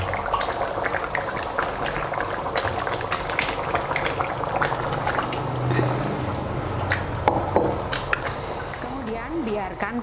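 Coconut milk boiling down with beef liver for Padang rendang, a steady bubbling simmer with scattered pops and drips, heard close and continuous.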